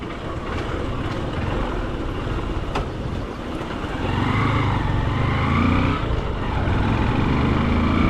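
A Honda City car on the road, heard from inside as a continuous loud engine and road rumble that grows a little heavier in the second half; no talking.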